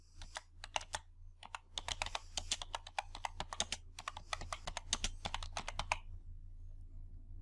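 Rapid clatter of keys on a computer keyboard as a last name is typed into a spreadsheet input box, crisp close strokes in quick bursts over a steady low hum, falling quiet near the end.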